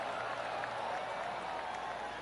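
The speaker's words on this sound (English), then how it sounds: "Oh, golf clap." Polite golf clap from a gallery crowd in the video game 2K Golf+, a steady soft wash of applause throughout that stays fairly even and moderately loud, with no distinct individual claps standing out.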